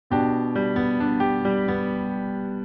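Piano notes are struck one after another in a quick rising sequence, building into a sustained chord that rings out.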